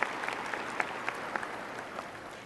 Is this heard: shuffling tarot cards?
no